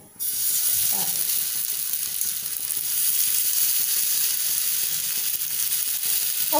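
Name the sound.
frying in oil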